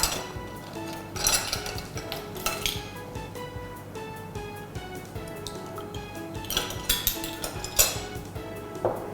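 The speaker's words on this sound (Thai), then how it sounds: "เสร็จแล้วเราใช้ตะกร้อมือนะคะ คนส่วนผสมให้เข้ากัน" Hand whisk clinking and scraping against a bowl while stirring cake batter with sugar and vanilla for a gold egg yolk thread cake; repeated light metallic taps and rattles, close and fairly quiet, with no talk.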